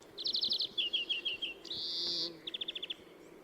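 Several bird calls from the BirdLingo guessing game, the same species repeated: a fast run of bright chirps, a softer descending series, one sustained high buzzy whistle, then another quick burst of sharp chirps, clear and close over faint background.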